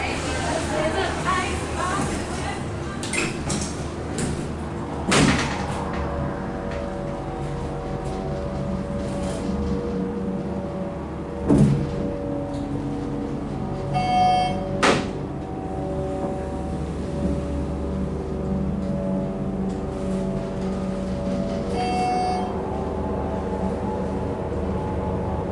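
A Haughton hydraulic elevator runs inside a Macy's department store, giving a steady low mechanical hum with tonal whine and occasional clunks and knocks from the car and doors. People talk quietly over the running machinery.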